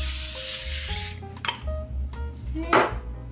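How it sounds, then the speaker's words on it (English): A short hiss of cooking spray bursts onto parchment paper in a kitchen, followed by light rustling and a few soft clinks and taps nearby. "I'm gonna give the parchment paper a little spray."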